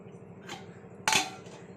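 A metal pot lid is set down half-covering a simmering pot of bendakaya egg curry: a light tap, then a sharper metallic clank with brief ringing, close and clear over a low background hum.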